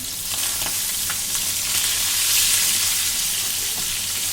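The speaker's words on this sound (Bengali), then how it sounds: "ভাজি মাছ চড়িয়েছি আমি।" Fish fries in oil in a pan with an even, hissing sizzle and a low steady hum beneath, close and constant with faint crackles and no talking.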